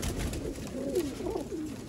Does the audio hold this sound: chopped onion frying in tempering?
no